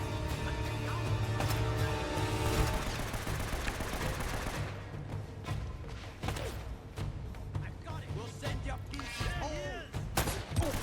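Gunfire and explosions in Uncharted: Drake's Fortune: dense, loud bursts of automatic fire and booming blasts, easing into scattered shots under a player's excited talk.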